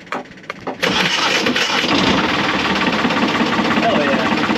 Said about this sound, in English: hopefully the engine works once we get everything put back.